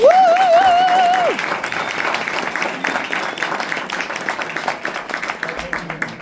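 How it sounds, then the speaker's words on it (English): A festival panel audience at Sundance applauds in a continuous patter of many hands that follows a brief sung or tonal note at the start and holds steady to the end. "if we could give a round of applause for all of that"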